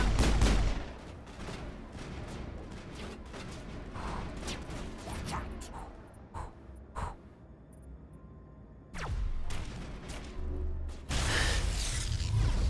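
Big rockets fire in the video game Mass Effect, sending loud bursts and booming impacts amid a dense run of gunfire, with short lulls between volleys.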